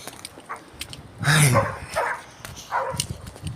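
A dog gives a few short barks and yips close by, broken by brief pauses, with faint background noise.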